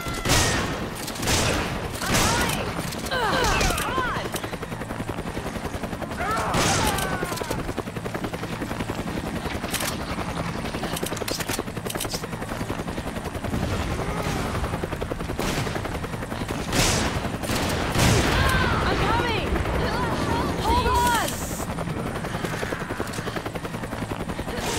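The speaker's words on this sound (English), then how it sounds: "I can hear gunfire" Gunfire in the video game Resident Evil 5, repeated shots and bursts over a steady helicopter-like rotor drone, loud and continuous throughout with booms, no talk evident.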